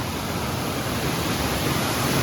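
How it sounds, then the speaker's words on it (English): Water from the Grand River pours over a dam in a small town, a loud, steady broadband rush that stays constant throughout with no voices. "See the water coming over the top pretty good."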